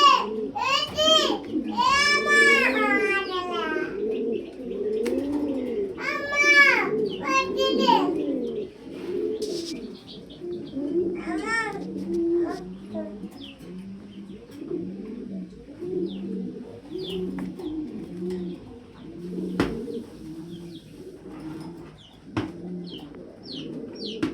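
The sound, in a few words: pigeons cooing at a pigeon farm, German Beauty breed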